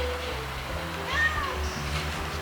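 A person imitates a cat with a single short, high, wavering meow, fairly faint within a steady café background hum.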